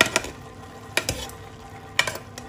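A spoon stirs half-cooked rice in a pot of prawn biryani, giving three sharp scraping strokes about a second apart over a low background hiss.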